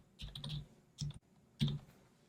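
Keystrokes on a computer keyboard as HTML code is typed into an editor, coming in three short bursts of quick, close clicks separated by brief pauses, with no talking.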